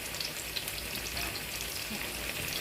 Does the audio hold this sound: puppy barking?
no